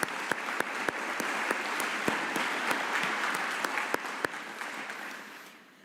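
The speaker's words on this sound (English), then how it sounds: "I would ask for one more round of applause for our outstanding students, Casey and Kristen." Steady applause from a crowd at a university commencement ceremony, with a few sharper individual claps standing out, fading away at the end.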